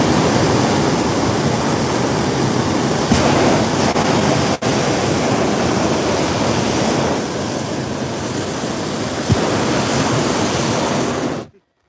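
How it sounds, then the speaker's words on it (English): Propane burner of a hot air balloon firing on a flight with Vista Balloon Adventures, a loud, steady, broadband roar that holds for about eleven seconds, with one brief dip midway, before cutting off abruptly. "Burners are quite noisy."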